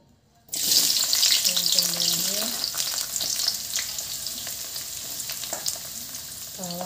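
Onion, garlic, small and large chilies, tomato and galangal hit hot oil for an Indonesian stir-fried white cabbage dish: a sudden loud sizzle that settles into steady crackling frying, with light clinks of a utensil stirring in the pan.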